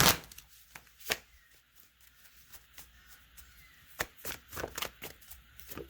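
Crisp riffling bursts of tarot cards being shuffled close by, a few quick sharp flurries separated by short pauses.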